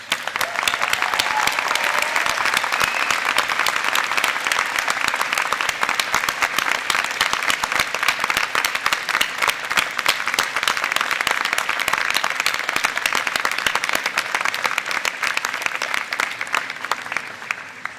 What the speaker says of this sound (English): show your appreciation for the support of your parents, family, and friends by giving them a big round of applause